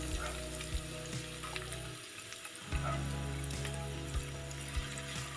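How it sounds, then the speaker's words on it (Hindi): Tinda (apple gourd) tipped into a pan of frying garlic on medium-low heat, a steady loud sizzle that briefly dips and then surges back stronger, with a few soft clinks, no talk. "लहसुन हमारा फ्राई हो चुका है, अब हम इसमें टिंडा ऐड करेंगे।"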